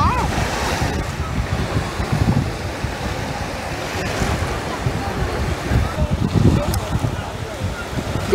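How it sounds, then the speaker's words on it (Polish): Surf rolls continuously onto the beach at Mikoszewo on the Polish coast while wind buffets the microphone, a loud, steady roar of breaking waves with gusty rumble and no clear speech. "naprawdę piękna plaża jest w Mikoszewie"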